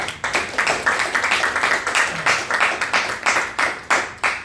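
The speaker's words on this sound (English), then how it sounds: "Let's give her a warm round of applause." Audience applause at a Toastmasters club meeting: steady, rhythmic hand claps from a small group, close and moderately loud, with no talking over them.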